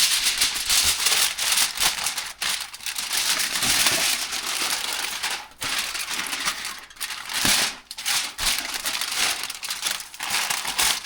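A smoked brisket flat is double wrapped in butcher paper or aluminum foil, giving loud, close, continuous crinkling and crumpling with brief pauses and no talk.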